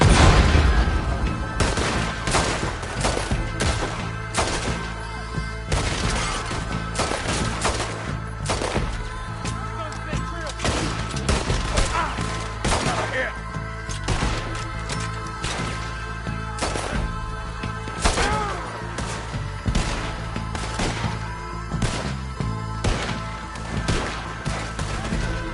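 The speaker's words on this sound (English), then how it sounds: "Shoot, Morgan!" Dense, continuous gunfire from many weapons in a Red Dead Redemption 2 shootout, with overlapping shots and impacts, loud and close, with occasional shouting voices mixed in.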